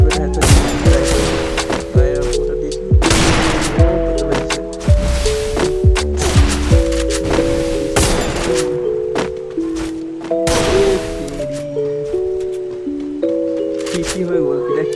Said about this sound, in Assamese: পুনৰ এটা হেডশ্বট দিবলৈ ট্ৰাই কৰি আছোঁ